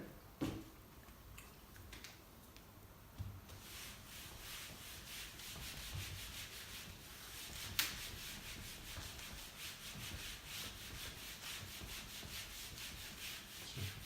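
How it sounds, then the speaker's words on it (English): A felt eraser rubbed back and forth across a classroom board, a soft continuous scrubbing swish with rhythmic strokes lasting the whole stretch, quiet and close, with a faint tap partway through and no talking. "let me erase the board"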